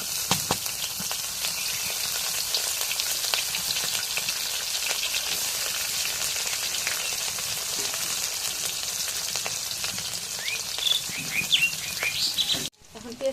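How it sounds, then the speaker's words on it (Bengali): Dried fish and green chillies frying in hot oil in a pan, giving a loud, steady hiss and crackle close by that runs throughout, with brief clinks of stirring, then cuts off near the end. "এখন এই জায়গায় সুটকি কাঁচামরিচ দিয়ে দিই তেলের মধ্যে"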